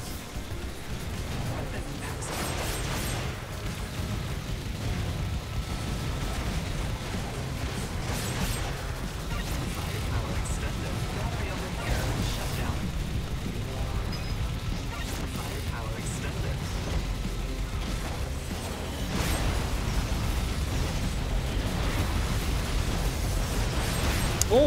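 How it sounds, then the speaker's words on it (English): Dense, continuous barrage of explosions and bursts from the arcade shooter Assault Android Cactus, with mines going off amid wasp enemies, layered over busy game noise and music, loud and unbroken throughout. "Wow, that was a lot of explosions going there."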